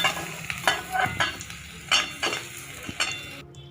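Small new potatoes frying in oil while being stirred: a soft continuous sizzle broken by repeated scraping and clinking of a spatula against the pan every half second or so, close and moderately loud, with no talking.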